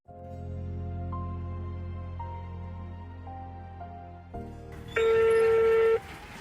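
A telephone is dialed to call home: a run of keypad tones beeps one after another, then a single loud ringing tone sounds for about a second.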